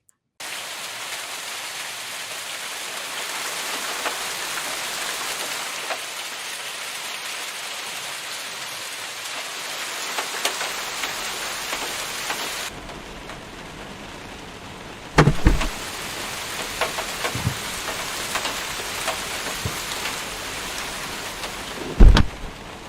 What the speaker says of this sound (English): raindrops are hitting the fabric of the wings